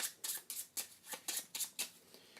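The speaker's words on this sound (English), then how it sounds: "Shuffle that all together." A deck of board game cards for 5 Minute Dungeon being riffle-shuffled up close, about eight quick crisp riffle bursts in a steady rhythm, each a short papery flutter separated by brief pauses.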